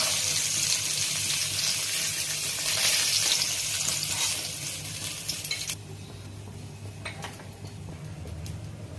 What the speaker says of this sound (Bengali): ওই কড়াইতে ওই তেলে আমি পাঁচ ফোড়ন দিলাম একটু ভেজে নিই